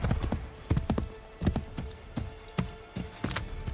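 Hooves of a horse ridden in Assassin's Creed 3 clip-clop at a brisk, steady rhythm, close and distinct over a faint background hum.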